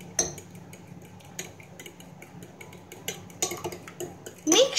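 Rice and egg with soy sauce are mixed by a metal utensil in a dish, producing irregular clinks and scrapes at close range, with a cluster of sharper knocks at the end.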